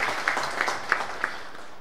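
Applause breaks out for the organising committee at the closing ceremony of a Hindi fortnight event, a steady wash of clapping from the audience with a few sharper claps standing out, fairly soft and brief.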